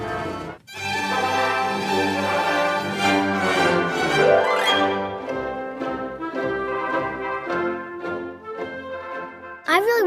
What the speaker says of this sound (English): An orchestra is a group of musicians that play instruments together.